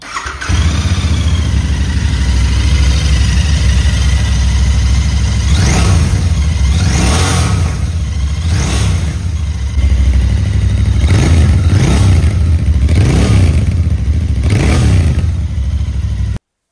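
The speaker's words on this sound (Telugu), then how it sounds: "ఇప్పుడు ఒకసారి దీని యొక్క ఎగ్జాస్ట్ నోట్ అలాగే ఇంజన్ సౌండ్ అయితే ఒకసారి మీరు వినండి" A 2025 Royal Enfield Bear 650 motorcycle idles with a deep, rumbling exhaust note, then its engine is blipped through a series of sharp revs, each rising and falling back, loud and close with no talking.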